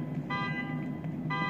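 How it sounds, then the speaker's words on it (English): A harsh, buzzy car horn in The Evil Within 2 sounds in two bursts, one long and one starting near the end, over a steady low background hum. "Sounds like a horn honking"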